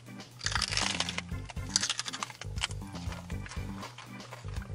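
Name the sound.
crunching a piece of raw fennel stalk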